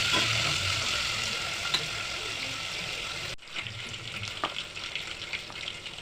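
Onion frying with curry leaves in a pan, a continuous close sizzle that drops in level partway through, with scattered stirring scrapes.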